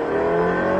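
A Ferrari F8 Tributo accelerates hard on a race circuit, its engine a loud, steady, close-up roar with strong sustained harmonics across the whole short burst.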